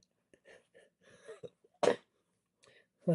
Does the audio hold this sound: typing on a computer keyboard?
no